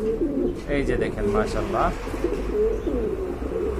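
Pet pigeons in a breeder's collection coo softly and steadily, close by, while someone talks over them throughout.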